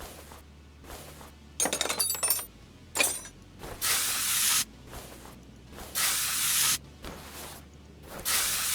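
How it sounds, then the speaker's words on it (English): Penetrating spray hisses onto rusty car bolts in repeated bursts, short spurts then longer steady blasts, with faint metallic clinks in between, close and fairly loud. "It does not trip my trigger to sit here and spray a spray to get bolts off."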